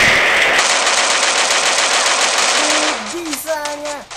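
Rapid automatic gunfire in the mobile shooter Free Fire rattles loudly for about three seconds, then stops. A voice follows with short tonal speech.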